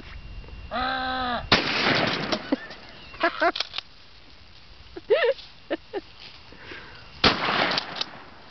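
Shotgun blasts hit a cash register: a few sharp, loud reports spaced seconds apart, with scattered clatter and people talking between shots.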